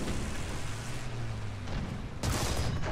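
A tank cannon firing in War Thunder ground battles, with a Tiger II in play: a loud, broad boom bursts in near the end over a constant rumbling, noisy battlefield background.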